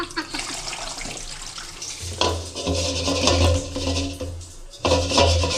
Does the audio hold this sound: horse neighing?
no